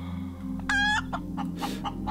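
A chicken clucking in the Breathedge video game, with one loud squawk followed by several shorter clucks over a steady low background hum.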